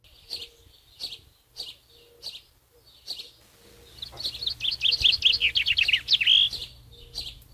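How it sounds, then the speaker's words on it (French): A common chaffinch sings in trees, its bright rapid trill of descending notes ending in a flourish, heard after a series of short separate chirps, fairly close and clear. "le pinson, c'est ce petit oiseau qui siffle tous les matins dans les sapins à côté de chez vous"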